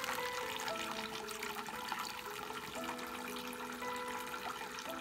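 Small backyard garden waterfall trickling steadily with a constant splashing wash, close by and alone, with a few faint bird chirps.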